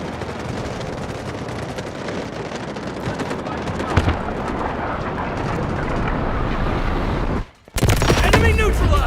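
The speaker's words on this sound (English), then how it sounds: "Requesting missile strike! Coordinates sent! Guided missiles launched." Guided missile strike in the military shooter Delta Force: a sustained roar of explosions and heavy fire, loud and dense, cutting to a brief silence before another loud blast.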